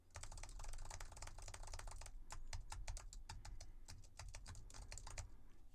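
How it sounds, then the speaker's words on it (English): Computer keyboard keys are tapped close to a Behringer SL85S microphone, giving rapid, crisp clicking in quick bursts and steady runs, fairly quiet overall, with no speech. "this is what it sounds like when you're tapping on keys"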